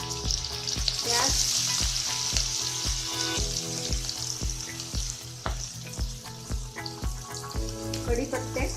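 Onions with asafoetida and chillies fry in hot oil for a Rajasthani dal, giving a loud, continuous close sizzle with a steady rhythmic thumping running underneath throughout.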